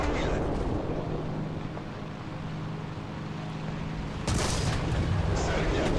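A tank cannon fires at a Ferdinand tank destroyer in the War Thunder video game: after a long stretch of low engine rumble, a single loud, sharp blast lands near the end and keeps ringing out.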